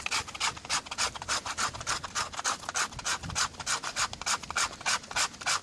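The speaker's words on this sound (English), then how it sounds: "if you hold a knife like this and using the belly of the knife, this curvy bit before the tip, yeah, and just scrape" The belly of a sharp knife scraping along wood outdoors, a fast, even series of rasping strokes, loud and close, repeating rhythmically about three times a second with no voices.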